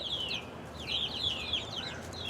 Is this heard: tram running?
no